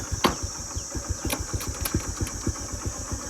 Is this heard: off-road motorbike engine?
yes